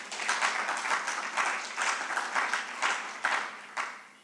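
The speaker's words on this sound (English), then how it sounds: "In fact, we must be clapping hands for that." An audience claps at an annual general meeting, a few seconds of steady, moderately loud applause from a crowd with no speech over it.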